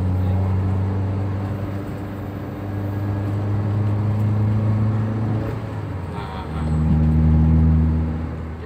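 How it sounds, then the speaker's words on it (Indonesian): An older Toyota Avanza engine accelerates in second gear after an engine flush, a steady low drone rising in pitch, dropping briefly at a shift-like dip and then climbing louder again, heard from close by. "Tes pas gigi 2 putar, langsung kita becek, kita ngetes akselerasinya."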